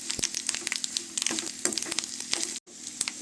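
Garlic cloves frying in hot oil as a tempering for Andhra-style mango dal: a dense, steady sizzle broken by sharp crackles and pops, with a brief silent gap near the end.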